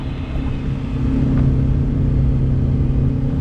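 A 2014 Bennington S24 tritoon's outboard engine cruising steadily at about 25 mph and 4,200 RPM, a loud continuous mid-pitched drone with rushing water and wind, holding even throughout.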